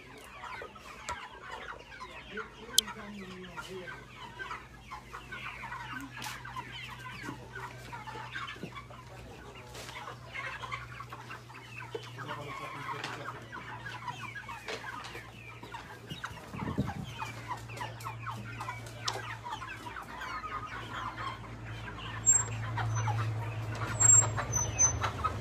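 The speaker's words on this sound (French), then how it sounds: "Les poulets s'ils sont bêtes, c'est pas possible." Chickens cluck softly and steadily at moderate distance, with scattered bird calls and a low continuous hum underneath, no clear talk.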